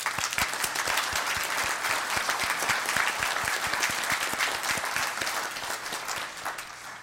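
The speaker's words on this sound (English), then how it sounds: "a round of applause" A seated audience at an official business meeting claps steadily, dense and continuous for several seconds, then begins to thin toward the end.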